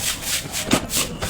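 Sandpaper rubs back and forth on a part of a Hanabishi floor fan, giving close, rhythmic scratchy strokes, about five passes in quick succession, with no talk over them.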